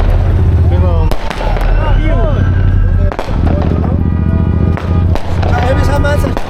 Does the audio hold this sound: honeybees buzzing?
no